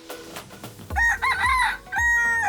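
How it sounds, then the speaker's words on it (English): A rooster crows loudly several times in quick succession, close by, with clear cock-a-doodle-doo calls. "the familiar sounds of roosters, like the ones in the Philippines"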